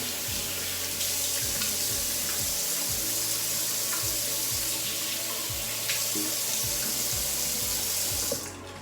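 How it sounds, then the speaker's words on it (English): Tap water runs steadily into a bathroom sink as someone rinses their face, a loud continuous splashing hiss throughout with small shifts in flow, close by and without talk. "I just take water and I rinse my face with water and I just like wash my face like that."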